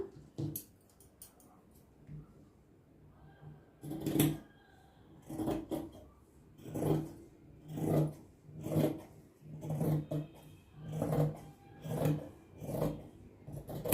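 Scissors cutting through lehenga fabric on a tailoring table, a series of about nine crisp snipping and rasping cuts at a steady rhythm, close and fairly quiet with no talk.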